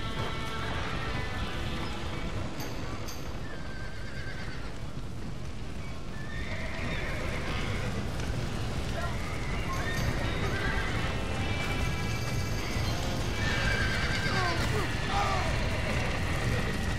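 Horses whinny several times in the video game Red Dead Redemption over a steady background bed, with hoofbeats clopping along and faint voices mixed in.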